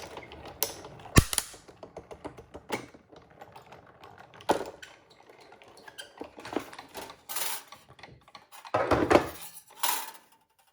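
A die cutting machine pressing a snow globe die through cardstock for a Christmas card, heard as a run of irregular clicks, clacks and rattling mechanical knocks, some sharp and loud, scattered over about ten seconds with no voices.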